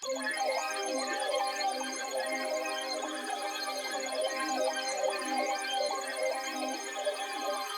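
Layered synthesizer presets run through an effect chain, giving a bright, shimmering texture with no low end. A busy melodic pattern repeats steadily at moderate loudness, and no one speaks.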